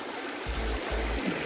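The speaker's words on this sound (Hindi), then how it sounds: "नदी है, पार करनी है, करने जा रहा हूँ मैं इसे पार।" River water rushing steadily nearby, a continuous broadband wash with no speech, while a few low thuds sound briefly in the middle.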